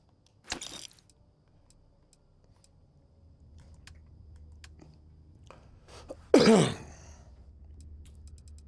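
A man coughs twice in a quiet room during a pirate-themed game session. One short cough comes early, and a louder, harsher cough follows later.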